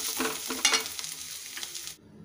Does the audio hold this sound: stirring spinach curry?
yes